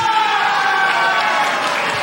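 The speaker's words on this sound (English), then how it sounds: "look at this sold-out crowd going absolutely nuts" A sold-out wrestling crowd in Philadelphia roars and cheers continuously, a dense, loud wash of voices and applause filling the whole moment.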